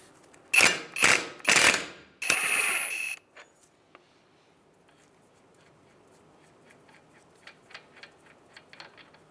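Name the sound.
ratchet loosening 36 mm axle nut on Mazda CX-9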